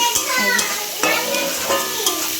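Potatoes and onions fry with spices in a hot pan, a continuous close sizzle broken by several scraping stirs of a spatula. The frying is loud and steady throughout.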